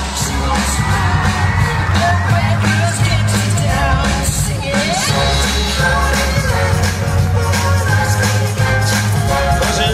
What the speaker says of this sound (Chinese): 让我们现场的观众朋友们现场的选手们给我们这些国家代表们一些掌声好吗